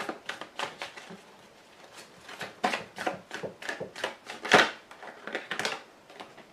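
Tarot cards being cut and shuffled by hand, a run of soft, rapid papery riffles and slaps at close range, with no talk over them.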